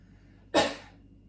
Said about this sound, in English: if you're struggling to feel that expansion, I want you to just cough.